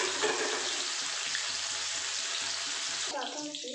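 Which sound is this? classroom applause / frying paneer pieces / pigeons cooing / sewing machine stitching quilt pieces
frying paneer pieces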